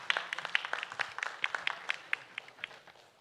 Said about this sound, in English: can we have a huge round of applause for Ghazal?